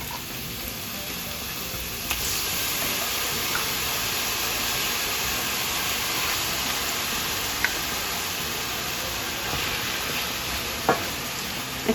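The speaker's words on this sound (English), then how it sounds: "Let's add our ground beef to the mix here." Ground beef sizzling steadily in a pan for spaghetti sauce, a constant hissing fry with occasional scrape and clink of a utensil stirring it, no talk.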